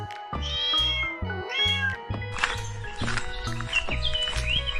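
A cat meows several times, with rising and falling high cries spread across the clip, close and clear over gentle background music.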